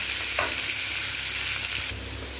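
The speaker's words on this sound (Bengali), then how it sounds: "আলুগুলোকে একটু হলুদ দিয়ে ভালো করে ভেজে নিই" Potatoes fry with turmeric in hot oil, a steady close sizzle with a couple of sharp stirring scrapes against the pan, no voices.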